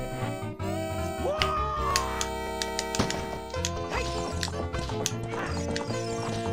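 A horse gallops in a race in the video game Ocarina of Time, its hoofbeats running beneath loud, busy game music that dominates throughout.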